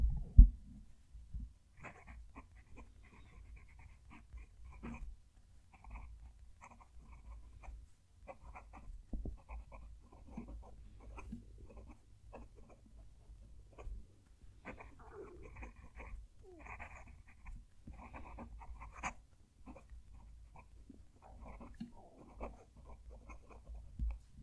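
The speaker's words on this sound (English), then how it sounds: "I'm going to move the mic down to the paper so you can hear the pen writing." A HongDian N7 fountain pen with a fine nib writes on paper close to the microphone, making faint, irregular scratchy strokes and taps in short bursts over a quiet background.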